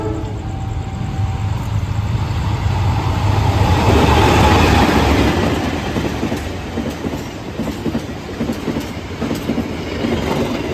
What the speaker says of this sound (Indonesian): Kereta api Kahuripan tiba di stasiun Wali Kukun, Kabupaten Ngawi, bertemu dengan kereta api Bangunkarta.